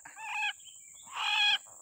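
Two loud, harsh calls of a white-breasted waterhen sound up close, each about half a second long, with a brief quiet gap between them.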